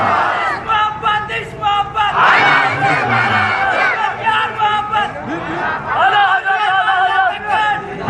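A large crowd loudly chants religious slogans in unison at a gathering honouring Imam Hussain, a dense wall of many voices rising and falling in repeated bursts that fills the whole stretch.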